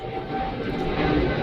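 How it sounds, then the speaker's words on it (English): An airplane coming in to land drones overhead as a steady, fairly loud engine rumble that holds and slowly builds, with no talking over it. "oh, is that an airplane?"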